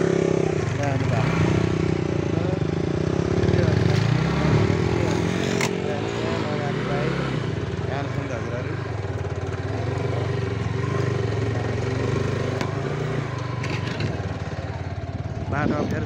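Motorcycle engine running steadily throughout a ride on a rough, uneven road, loud and close, with rattling and clatter over bumps and a voice talking over it.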